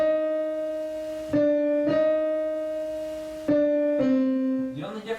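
A piano plays part of a piece: sustained notes are struck in steady succession, each ringing and slowly decaying, with a brief flurry of quicker notes at the end.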